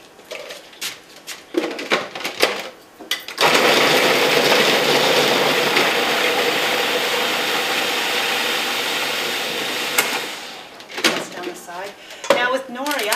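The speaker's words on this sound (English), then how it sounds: "the blades of the processor will help break that up" A food processor runs for several seconds while its blades chop ingredients for a mock tuna mix, giving a steady whirring roar between bursts of handling noise and clattering, with a voice talking before and after.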